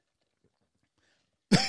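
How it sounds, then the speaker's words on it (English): A single sharp cough lands close to a podcast microphone at the very end, after near silence. "can I cough on this mic?"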